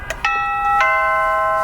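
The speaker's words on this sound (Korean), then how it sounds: "가정 내에 설치되어 있는 홈팟에서 모두 다 초인종 소리가 나고요" A Logitech smart doorbell chime rings out of a HomePod: two quick bright tones, then a third that holds and slowly fades, loud and clear with nothing else around it.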